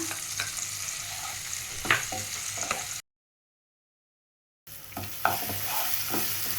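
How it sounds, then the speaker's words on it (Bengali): Ginger and green chilli paste fries with boiled tomatoes, a continuous close sizzle broken by spoon scrapes and stirring clicks, cut by a short silent gap before the frying resumes. "এর মধ্যে দিয়ে দিচ্ছি আদা আর কাঁচা লঙ্কা বাটা"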